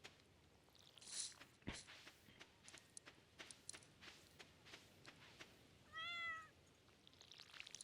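A cat in a video game meows after being watered. It gives one short wavering meow near the end, amid soft footstep-like taps and small clicks, fairly quiet overall.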